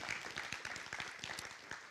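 An audience applauds at a Charlotte community forum on race and equity, with dense, steady clapping that is faint and distant throughout and no talking.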